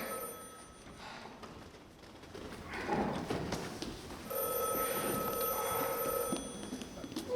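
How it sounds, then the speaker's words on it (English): During a stage musical, a telephone bell rings faintly in the background, bursts of bright metallic trilling over a quiet room with low rustling. "I don't want this number ruined by a ringing telephone"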